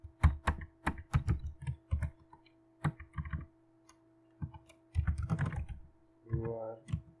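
Python code being typed on a computer keyboard, with close, crisp key clicks coming in quick bursts and short pauses, plus a few heavier keystrokes and a brief murmur of speech near the end.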